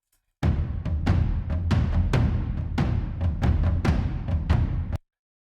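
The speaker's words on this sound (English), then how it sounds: "And here we have some toms." Dry tom drums from a sample library, with no effects, boomy and heavy in the low mids, struck in a quick steady run of about a dozen hits that end abruptly after several seconds.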